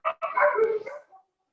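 At a pet spa and resort, a dog gives one drawn-out bark or yelp lasting about a second. It is fairly clear against an otherwise quiet background.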